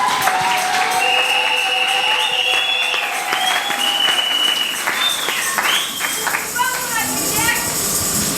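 Wedding guests applauding the couple at a marriage blessing, sustained loud clapping from a crowd with cheering voices, whistles and ululation rising over it.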